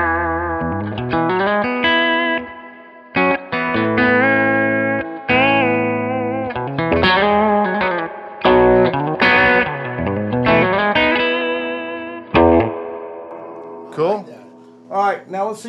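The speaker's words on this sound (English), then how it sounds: "I've got a bell tone guitar here that has TV Jones pickups in it" Electric guitar with TV Jones pickups played in phrases of chords and single notes, heavily effected with chorus and reverb through a Carr Super Bee amp, pausing between lines with ringing sustain.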